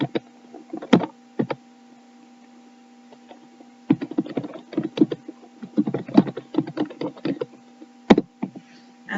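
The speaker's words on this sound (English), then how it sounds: "Now I'm gonna type a password." Password typed on a computer keyboard, close crisp key clicks in short uneven bursts with a pause between, over a faint steady hum.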